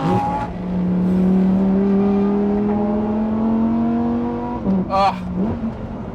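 A Lamborghini Huracan Tecnica engine revs up through the gears on the road, a loud rising howl with a brief shift break, then a sharp rev blip near the end.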